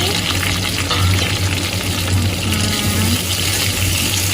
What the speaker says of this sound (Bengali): এবার এর মধ্যে ভেজিটেবলসগুলো সব দিয়ে দিচ্ছি।